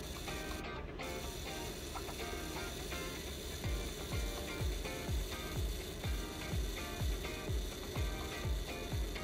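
A Canon Canonet camera's self-timer whirs and ticks, running slowly and sluggishly, close and quiet, with a steady mechanical buzz and a repeating ratchet-like clicking that grows more pronounced partway through.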